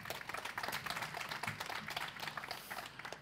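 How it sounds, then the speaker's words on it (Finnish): An audience at a panel discussion claps steadily throughout, a dense, moderately near patter of many hands. "Saa taputtaa."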